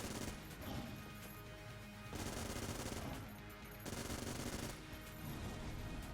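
Platinum Cannon in the game Enter the Gungeon fired in pulses, dense rapid bursts of booming gunfire lasting about a second and a half each, separated by brief lulls, loud and continuous.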